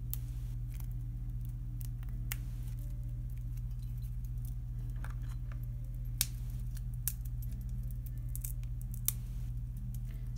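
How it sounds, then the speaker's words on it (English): Dried orange peel slices, dehydrated, snapped by hand into smaller pieces: irregular crisp cracks and small crunches, some clustered and some isolated, quiet and close over a constant low hum. "So I'm just breaking them into a little bit smaller pieces."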